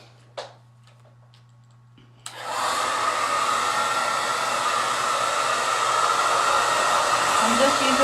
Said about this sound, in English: I'm just using my blow dryer.